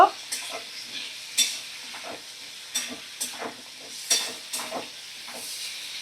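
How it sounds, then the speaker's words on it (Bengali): Ginger and cumin paste stirred and fried in a pan for a vegetable dal, with repeated close scraping strokes at an uneven rhythm over a faint, steady sizzle and no talking. "আদা জিরে বাটা দিয়ে আরও একটু দু মিনিট আমি ভালো করে নাড়াচাড়া করে মশলাটা ভালো করে কষিয়ে নেব"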